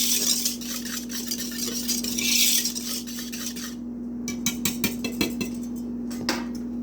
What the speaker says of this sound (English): I'm going to take my whisk and just whisk all this up together and get it good and mixed.